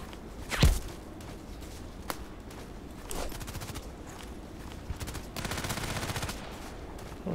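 Gunfire in a sniper-mission video game with an HK417 rifle: a sharp, loud shot near the start, then scattered fainter distant cracks and short bursts over quiet ambience, with no talking.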